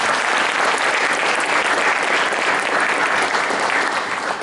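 An audience at a Tenth Mountain Division evening event applauds for veterans and descendants: loud, dense, continuous clapping fills the room at a steady level throughout, with no voices over it.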